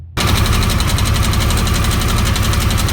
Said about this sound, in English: I had about 900 miles on this engine, and I began to develop a tick. It was only there idle.